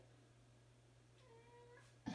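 A house cat gives a faint, drawn-out meow in a quiet room over a low steady hum, followed by a brief louder bump at the end.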